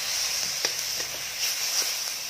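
Minced meat sizzles in a hot pan, a steady bright hiss with small pops and crackles throughout, close and continuous with no talking.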